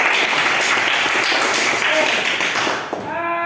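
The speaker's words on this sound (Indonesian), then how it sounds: "tepuk tangan untuk kalian semua" A classroom of students applauding during an Indonesian language lesson, a steady wash of clapping filling the clip before it thins out, with a few tonal voice sounds near the end.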